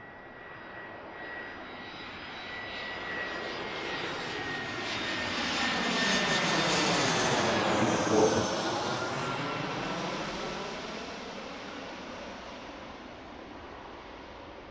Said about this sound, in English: I think that was an A319, right? Airbus A319, American 347 from Philadelphia.